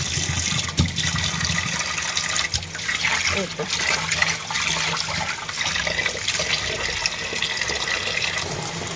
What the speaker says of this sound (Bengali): এখন শুধু আর একটু পানি দিয়ে হালকা পাতলা ধুয়ে নেব